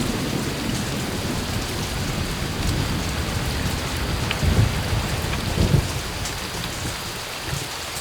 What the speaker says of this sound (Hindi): इतनी मुसलधार बारिश है कि किसी का चेहरा नहीं दिख रहा है